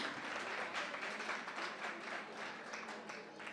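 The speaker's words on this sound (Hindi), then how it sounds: "एक बार जोरदार तालियों से स्वागत करते हैं।" Faint, distant applause from an audience at a comic Hindi poetry recital, a continuous soft rattle of many hands clapping that stays level throughout.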